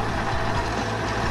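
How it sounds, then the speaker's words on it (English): A bus engine running steadily, a low continuous rumble with a broad hum and no pauses, heard alone with no talk. "Bus."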